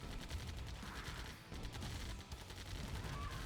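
Minigunner infantry in a real-time strategy game fire continuous rattling machine-gun bursts, a faint, dense stream of rapid shots with brief dips in intensity.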